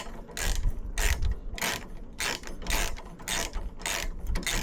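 A ratchet wrench undoing a 15mm sway bar link bolt on a Ford Focus XR5 Turbo, steady repeated clicking strokes in an even rhythm, loud and close with no voices.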